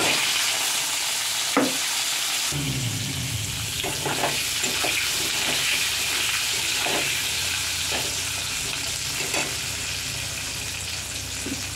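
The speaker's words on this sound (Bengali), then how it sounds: "এবারে দিয়ে দিচ্ছি সেদ্ধ করে রাখা আলু" Boiled potatoes dropped into a frying pan with a bay leaf set off a loud, steady sizzle of frying, with scattered stirring scrapes and clinks through it and no talk.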